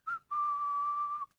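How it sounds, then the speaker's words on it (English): A cartoon character in Kung Fu Panda: Legends of Awesomeness whistles a brief high note, pauses, then holds one long steady whistled tone, clear and alone. "The whistling. Nice touch."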